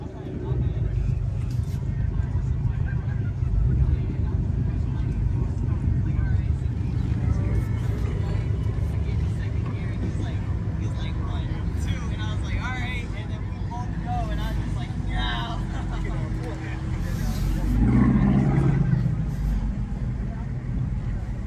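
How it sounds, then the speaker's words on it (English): Car exhaust rumbling from a vehicle being followed at a car meet, a steady low engine drone with a louder swell near the end, while people talk throughout. "I'm going to follow you so I get your exhaust noise."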